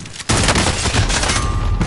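Loud, dense gunfire from a Call of Duty match with a shotgun in play, bursting in sharply after a short quiet lead-in and continuing as a sustained, close barrage of overlapping shots.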